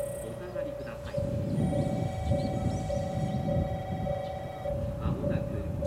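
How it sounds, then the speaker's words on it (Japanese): An 817 series train bound for Sendai rumbles steadily into Ichiki Station on the Kagoshima Main Line while a sustained electronic tone sounds and a Japanese public-address voice warns passengers to stand behind the yellow line. "まもなく列車が参ります。危ないですから黄色い線の内側へお下がりください。"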